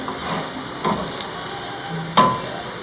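Bulgur with lamb, carrot and spices is stirred in a hot pot over a continuous sizzle, with a few distinct scraping strokes of the spoon standing out, close and clear.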